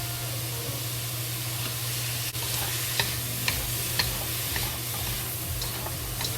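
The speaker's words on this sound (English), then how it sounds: "Just slowly fry until the carrots and the celery become soft." Ham stir-fried with celery and carrots, seasoned with salt and soy sauce, sizzling steadily in a pan with scattered light ticks of a spatula, over a low constant hum and with no talking.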